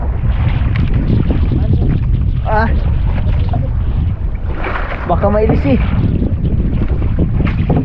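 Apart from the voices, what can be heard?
strong wind at sea on a boat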